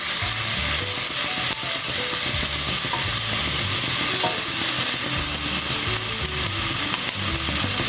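Chicken fillet fries with celery in a hot pan, giving a loud, continuous sizzle with a steady crackle that fills the whole stretch, with no voices.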